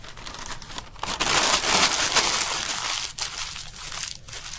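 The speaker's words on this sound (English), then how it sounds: "So I'm going to crumple up a couple of pieces of newspaper." Several sheets of newspaper are crumpled by hand in an art room, giving a loud, continuous crinkling and crunching rustle that swells and eases in short bursts, with no talking.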